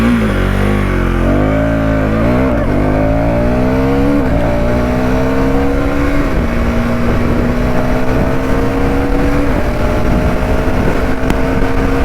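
A KTM Duke 390 motorcycle launches hard, its engine note climbing through several gear shifts, loud and close throughout, with no talk over it.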